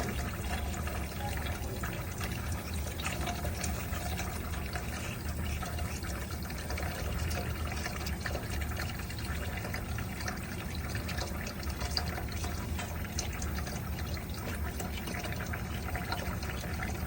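Tap water runs continuously over sandpaper in a steady, loud, broadband rush with no break, close up throughout.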